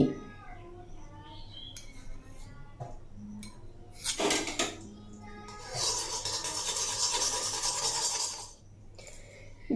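A metal spoon scrapes and clinks against a wok heating with ghee in a few bursts, with a longer stretch of harsh scraping near the end.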